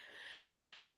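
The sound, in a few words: sneeze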